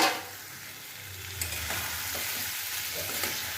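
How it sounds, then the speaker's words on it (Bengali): Giant freshwater prawns fry in a cashew and melon-seed spice paste while being stirred, giving a close, continuous sizzle punctuated by several scraping spoon strokes against the pan. "মশলাটা কষিয়ে আমি মাছগুলো দিয়ে একটু কষিয়ে নেব।"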